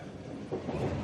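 A train rolls along the rails on a very long journey, a steady close rumble with a broad wash of wheel and carriage noise that swells slightly halfway through, with no talking.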